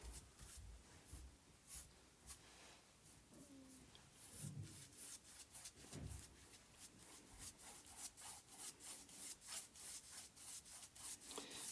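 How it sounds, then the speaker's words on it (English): A painted wooden sled is sanded by hand, a quiet, close scratchy rubbing in steady back-and-forth strokes that turns faster and more rhythmic toward the end. "And I'll still kind of sand it off."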